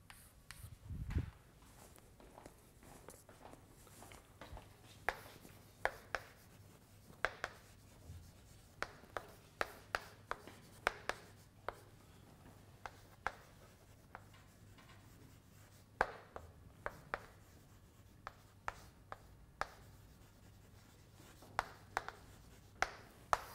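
A pen or chalk writes physics equations by hand during a lecture, a long run of soft scratching strokes with frequent sharp taps in an irregular rhythm, fairly close and quiet, with no talking.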